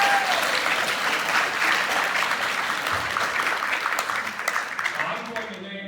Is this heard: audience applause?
yes